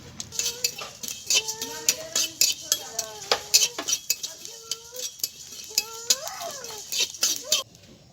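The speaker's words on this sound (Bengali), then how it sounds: "ধনে আর মৌরি ভাজা হয়ে গেছে" Coriander and fennel seeds dry-roasting in a pan, with scattered light clinks and scraping of a spoon against the metal, and faint voices in the background.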